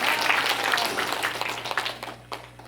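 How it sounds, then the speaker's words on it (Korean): An audience at a Buddhist women's workshop applauds, a dense wash of clapping that starts full and thins into scattered claps as it fades. "여러분 다시 한번 큰 박수."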